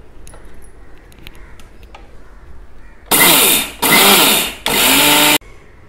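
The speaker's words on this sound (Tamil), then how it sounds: "இப்போது நம்ம ஊற வச்சு நல்லா வடிகட்டின அந்த வரகரிசியை மழமழன்னு அரைச்சிக்க போகிறோம்." An electric mixer grinder runs in three loud bursts, grinding soaked and drained varagu millet rice to a smooth batter, with short pauses between pulses after a quiet start.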